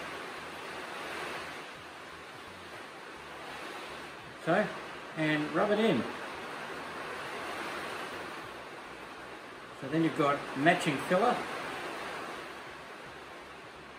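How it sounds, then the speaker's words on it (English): Stormy rain falls on a roof as a constant, even hiss that fills the background, while a person speaks over it in two short stretches. "My apologies for the noise of the rain on the roof."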